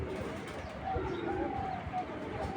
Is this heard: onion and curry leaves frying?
no